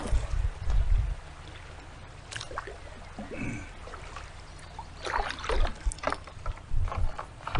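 A plastic kayak with a 9-inch skeg grinds and scrapes over stones in shallow water while being pushed off, giving uneven knocks and splashy scuffs close by, loudest near the start and again toward the end.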